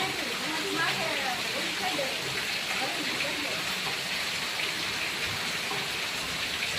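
Heavy rain falls in a constant, loud hiss of dense drops in north Gujarat, steady and close throughout, with a voice speaking beneath the downpour.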